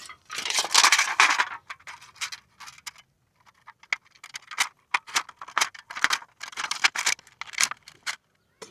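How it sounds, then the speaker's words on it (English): Edges of aluminum beer cans being trimmed with scissors for a stove windshield: close, rapid bursts of crisp snipping and metallic crinkling, coming in irregular clusters with short pauses between. "now we only need to trim off the edges a bit"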